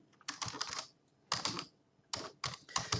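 Bursts of rapid typing on a computer keyboard while a group name is entered, three clustered runs of close, crisp keystrokes separated by short pauses, with no talking.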